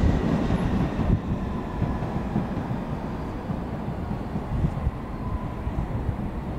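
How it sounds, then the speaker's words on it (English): A London Underground District Line train at Barking station gives a steady low rumble and rolling rail noise throughout, without a break. "we've got a District Line train starting here and going towards Wimbledon"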